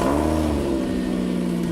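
Car exhaust straight-piped with a G35 downpipe, giving a loud, raspy, close-up engine rev that holds a droning tone throughout.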